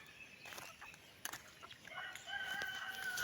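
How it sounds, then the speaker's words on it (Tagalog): Backyard chickens in a rural province yard waiting to be fed, with a rooster crowing; clucking and crowing calls rise through a faint outdoor background, growing steadier toward the end. "Yung mga manok ko, nag-aantay na silang kumain."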